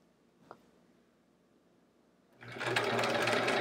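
A sewing machine stitches quilt pieces for a quilt block, starting abruptly after a brief tap and running steadily and loudly at close range with no talk.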